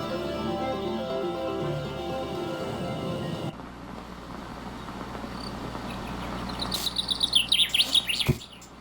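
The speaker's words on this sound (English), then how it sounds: "God, those birds are loud." Bright bird chirps in the video game Evan's Remains flutter in the second half, rising into a rapid busy burst of tweets over a steady ambient bed, fairly loud and close.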